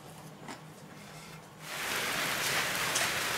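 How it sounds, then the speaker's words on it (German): Rain falling outdoors: quiet at first, then a steady, dense hiss of rainfall swells in after about a second and a half and holds at an even level to the end. "es regnet zwar"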